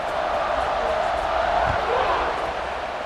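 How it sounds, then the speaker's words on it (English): A stadium crowd roars steadily and loudly before a kickoff in a Michigan State versus USC game of EA Sports College Football 26, a dense continuous wash of cheering with no distinct breaks. "They're set to kick it off, and this crowd now ready to get behind them."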